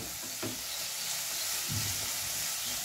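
Bread pasta fries in a pan over a full flame, giving a steady close sizzle with two soft stirring scrapes.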